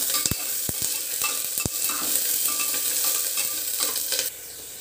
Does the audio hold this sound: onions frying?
yes